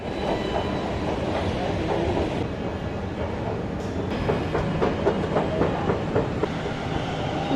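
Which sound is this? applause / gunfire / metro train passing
metro train passing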